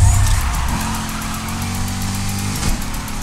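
A car drifting through a drift zone in the racing video game NFS Heat, with a steady engine drone and a sustained tire squeal that holds for about two seconds before easing off.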